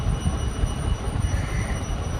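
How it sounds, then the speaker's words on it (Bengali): A train at a railway station on a rainy day, a steady low rumble of rolling carriages close by, continuous and fairly loud throughout with no voices. "তারপর ট্রেন এলো, ট্রেনে উঠলাম"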